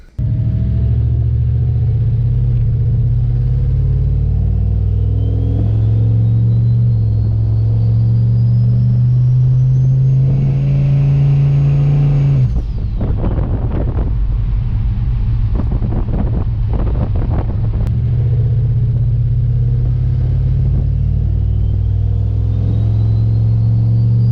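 A turbocharged car on a test ride drones loudly with engine rumble and wind buffeting, revs climbing then dropping sharply around the midpoint before steady cruising resumes.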